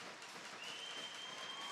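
Fans at a University of Central Oklahoma versus McKendree game applaud as an injured player stands up on his own, a steady, faint wash of distant clapping lasting under two seconds.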